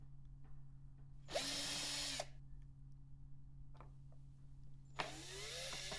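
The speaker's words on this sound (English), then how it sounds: "let's remove the screws" A small power screwdriver whirs in two brief bursts, about a second each, removing tiny screws from the base plate of an iPhone 5 charging dock, with quiet handling between and a low hum underneath.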